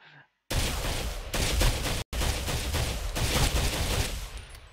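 Full-auto rifle fire in the video game Ghost Recon Phantoms: two long, loud, continuous bursts split by a brief pause, dense rapid shots close up with no talking.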